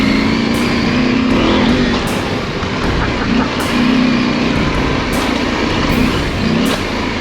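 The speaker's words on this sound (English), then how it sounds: "Look at Andrew riding my bike like it's stolen, eh?" An adventure motorbike is ridden hard, its engine roaring loudly and continuously with repeated rising revs and surges as it accelerates, heard up close with wind noise.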